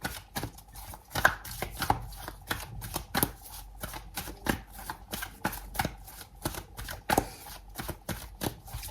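Oracle cards are shuffled by hand in repeated crisp riffling bursts, close and rhythmic, with no speech.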